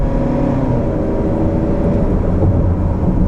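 A 2013 Hyundai Sonata with a 4-cylinder engine accelerates on the interstate, giving a steady, close engine and road drone that holds at an even level throughout, with no talking.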